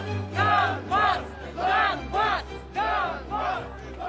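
An angry crowd storming administrative buildings still held by Kiev in Ukraine, with repeated rhythmic chanting and shouting in bursts, loud and close.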